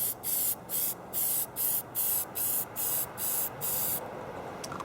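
Repeated short bursts of Hornady One Shot lubricant spray hissing onto rifle cartridge cases, about nine even pulses close up, followed by a softer trailing hiss.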